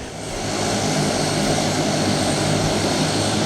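A Canadian Dash 8 twin-turboprop of the Kenya Air Force drones loudly and steadily, its broadband propeller and turbine roar swelling in over the first half-second and then holding constant, close and alone.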